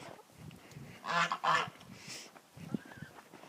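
Geese kept alongside a tom turkey in a backyard bird pen honk in a few loud nasal calls near the middle, then quieter scattered sounds follow against a calm background.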